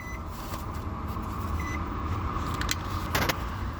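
A parked car with its engine left running, a steady low idle rumble filling the clip, with faint jingling and a brief rattle near the end.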